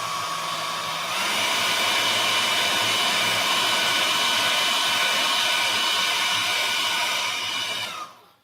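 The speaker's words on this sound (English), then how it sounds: "I don't know whether my hairdryer is plugged in, but let's try it" A hair dryer switches on and blows steadily at close range with a loud, even rushing whir for about seven seconds, used to dry watercolor paint, then cuts off abruptly at the end.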